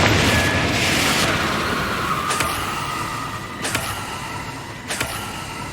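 Confringo fire spell blasts in the Hogwarts Legacy video game, with three sharp, distinct bursts cracking out over a steady dense roar of background game noise, evenly spaced about a second apart.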